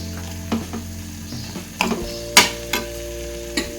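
A mixture sautéing in a pan while cooking mushroom gravy, with a steady sizzle and a few sharp scraping stirs of a spoon against the pan, close and alone.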